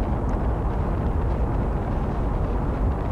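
Rocket thrust firing in the video game Deliver Us Mars, a loud continuous low roar with dense rumbling, steady and unbroken throughout with no speech.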